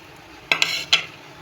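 Spice powders of garlic, cumin, garam masala, red chili and salt being mixed in a bowl, a few quick clinks and scrapes of a spoon against the bowl in a short close burst.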